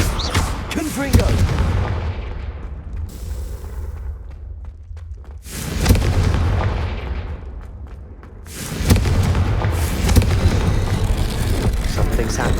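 Confringo blasting-spell explosions in the Hogwarts Legacy video game, loud booming blasts in three heavy bursts with rumbling tails and a quieter lull between them.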